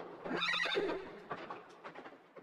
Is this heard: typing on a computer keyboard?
no